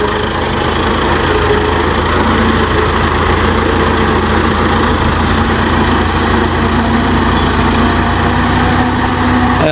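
A tractor engine runs steadily while spreading farmyard manure across a village field, a loud, unbroken drone with no pauses and no voices.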